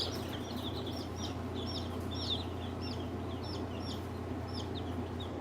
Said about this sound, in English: That's all those big brown hens we got out there.